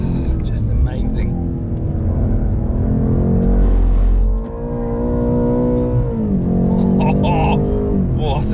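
BMW M8 on the Silverstone GP circuit, engine droning steadily with harmonic rises as it accelerates and a brief dip mid-run, heard from inside the car under near-continuous talk.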